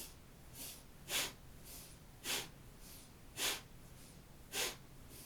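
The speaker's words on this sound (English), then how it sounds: "Inhale left and exhale right." Rhythmic breathing during a kriya shoulder-shrug exercise, with steady alternating inhales and exhales in an even seesaw pulse. About eight breaths are heard close and clear, each a soft airy rush, with no talking over them.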